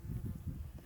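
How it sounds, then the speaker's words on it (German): Wasps buzz faintly and steadily around a bag of food set down while trekking in hot Patagonian backcountry, with a low, wavering drone and no talk. "Also aktuell riesen Wespenplage."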